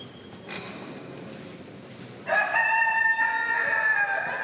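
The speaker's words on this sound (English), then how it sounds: "Chickens!" Rooster crows loudly nearby, a long, harmonic cock-a-doodle-doo rising out of quieter background chatter and clucking from chickens kept at a shrine.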